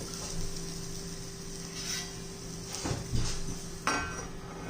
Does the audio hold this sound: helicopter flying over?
no